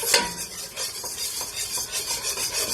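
Flour sautés in a pan while a spoon stirs it steadily, a continuous rhythmic scraping with faint sizzle, close and fairly loud with no talking.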